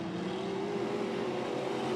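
Midwest modified race cars roar past side by side across the start-finish line at Springfield Raceway, a sustained engine drone heard from a distance and fairly faint, with no voices.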